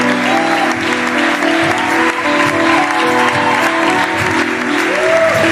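Church congregation applauding and cheering as a pastor and her husband arrive, dense sustained clapping and crowd noise filling the room with music tones underneath.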